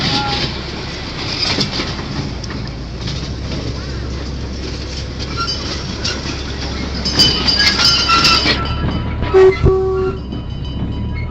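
Steady rumble of a train on the move, with rattling carriages and a brief high squeal or horn-like tone near the end, some talk faintly beneath.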